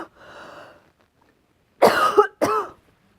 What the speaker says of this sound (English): Excuse me for the belch and the cough.